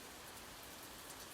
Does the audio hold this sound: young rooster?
no